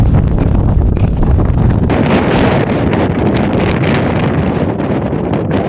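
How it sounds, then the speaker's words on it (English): Strong wind buffets the microphone high in Spain's Sierra Nevada on a winter climb near Mulhacén, a loud, continuous rumbling roar with gusty surges and no speech. "So here's the situation, it's quite windy."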